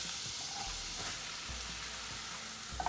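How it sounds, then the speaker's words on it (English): Garlic and spinach sautéing in a pan give off a steady, moderately quiet sizzle with a few soft stirring scrapes, and no voices are heard. "And let the garlic saute till it becomes slightly brown."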